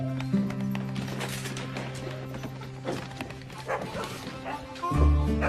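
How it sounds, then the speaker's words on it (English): A dog barks and yips in short bursts in a dramatized movie scene, with a musical score sustained underneath and occasional talking nearby. "what are you barking at?"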